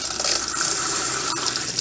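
An RV sink tap runs steadily during winterizing, a close, even gush of water pouring into the basin without a break.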